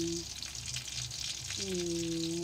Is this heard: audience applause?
no